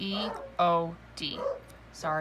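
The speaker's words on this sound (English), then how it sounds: "that's my dog barking in the background." Household dog barking in the background, a few short yips and whimpering barks picked up faintly between stretches of someone speaking.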